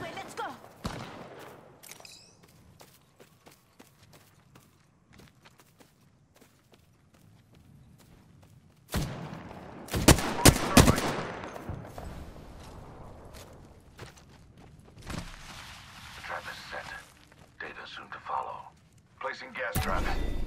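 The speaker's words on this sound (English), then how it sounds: "Getting shot at." Gunfire in Apex Legends: quiet clicks and footsteps give way to a loud cluster of shots in the middle, then scattered bursts and effects, with a voice talking over parts of it.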